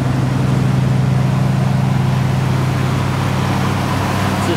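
A 1977 Ford Bronco with a 302 V8, dual exhausts and a carburetor idles after a cold start, giving a steady, loud, low rumble that runs unbroken throughout.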